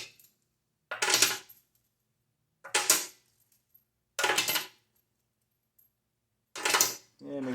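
Stainless steel lag bolts dropped into a Honda XL-175 motorcycle gas tank, four separate bursts of bright metallic rattling and clattering, each lasting about half a second with silence between, close and fairly loud.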